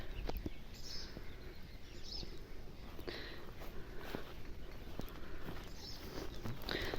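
Light rain falls steadily outdoors in a garden, a constant soft patter with scattered drips and a few faint bird calls in the background.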